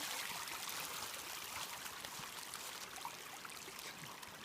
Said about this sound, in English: This water coming down.